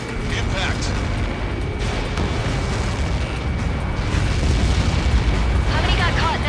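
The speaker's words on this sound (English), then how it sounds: "How many got caught in that explosion?" A massive Helios projectile blast in the Ace Combat 7 aerial combat game rolls out as a deep, sustained rumbling roar, with crackling debris and radio chatter layered over it.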